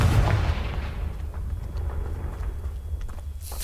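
A Confringo fire spell blasting in Hogwarts Legacy, a loud booming explosion at the start that rumbles and fades into a sustained low roar, with a faint second burst near the end.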